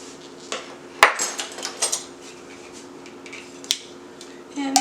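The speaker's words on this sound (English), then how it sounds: "And mix it all up" Taco ingredients get stirred in a bowl with oil and freshly ground pepper, producing scattered close clinks and scrapes of a utensil on the bowl, with one sharp knock and a few lighter taps over a faint hum.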